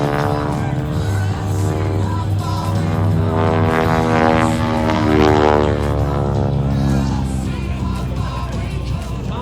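Propeller aerobatic airplane performing stops and restarts at the 2024 Oregon International Air Show, its engine droning loudly and steadily with a rising, pulsing whine, while crowd noise murmurs underneath.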